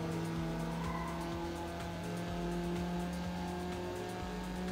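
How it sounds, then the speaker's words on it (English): Race cars skid and spin out in the Need for Speed Underground video game, with loud continuous engine drone and squealing tires throughout, heard alone without talk. "Oh, that guy spun out over there."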